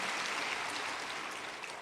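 Church congregation applauding together after a catechumen's profession is proclaimed, a soft, even wash of many hands clapping that stays steady and slightly distant throughout.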